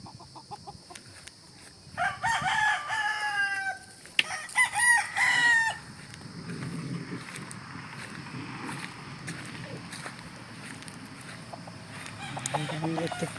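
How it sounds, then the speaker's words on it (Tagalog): Chickens on a farm: a rooster crows twice in quick succession, close and clear, amid scattered clucking and soft yard noise, then the flock settles into quieter background activity. "Mga putot ang manok."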